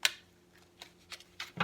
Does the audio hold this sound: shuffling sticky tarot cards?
yes